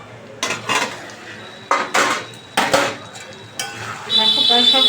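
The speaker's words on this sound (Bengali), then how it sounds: "ঢাকাটা তুলে দেখছি সব সেদ্ধ হয়েছে কি" A lid is lifted off a cooking pot of rice, potatoes and paneer, giving a few sharp metallic clanks and scrapes at close range. A steady boiling hiss runs beneath them and rises toward the end.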